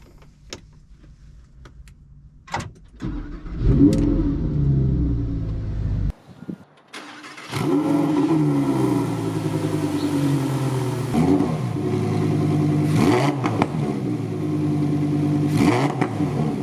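A Lamborghini Aventador SVJ Roadster starts with a few clicks and a starter whir, then its engine catches with a loud roar and is revved several times in rising and falling bursts, close by, with no talk.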